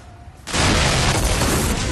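An explosion from a war propaganda film: a quiet hiss breaks into a sudden loud roaring blast that sustains as a dense rumble to the end.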